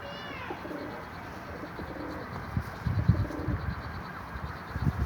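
A young, healthy, lively pigeon with new feathers coos softly up close, low repeated coos over a steady background hum, no talk.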